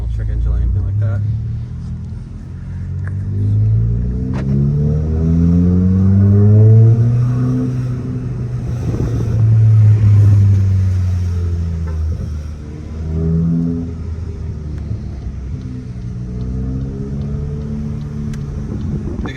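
A VW Golf GTI Mk8 fitted with an ECS Tuning front-mount intercooler on a test drive. A loud, close engine rumble rises and falls as it revs and accelerates, with road noise throughout.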